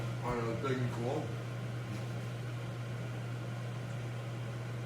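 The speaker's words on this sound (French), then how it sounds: "tu laisses ça 30 secondes dans le micro-ondes" A microwave oven hums steadily while heating a hot dog in a bread roll, a constant low drone that stays unbroken for the whole stretch, with a voice talking briefly near the beginning.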